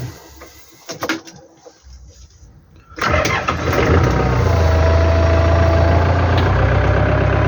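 A Yanmar AF720 tractor engine starting: a few faint clicks and a brief crank, then the diesel catches at once with a loud burst and settles into a steady, close, even idle.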